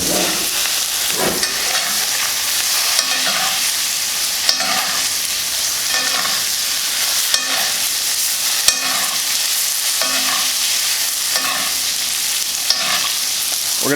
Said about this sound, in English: And now we're gonna baste it in that butter.